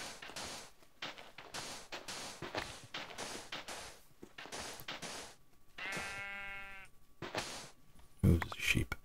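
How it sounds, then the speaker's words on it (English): Blocky video-game sheep bleating in a Minecraft-style world, a drawn-out wavering bleat in the middle of a steady run of rhythmic footstep clicks, heard under occasional talking. "Ooh, there's a sheep."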